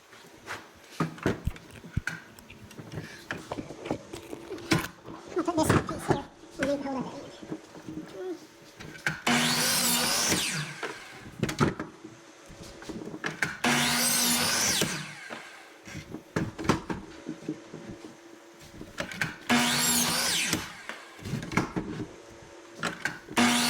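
Miter saw cutting wooden boards for a wheelchair ramp build outdoors, three loud bursts of a few seconds each, interleaved with someone talking and clattering of wood being handled.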